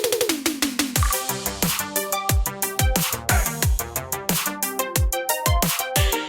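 An arpeggiated synth line programmed in Caustic 3 plays quick plucky notes stepping in a fast repeating rhythm over a deep pitch-dropping kick pattern, loud and alone with no voices.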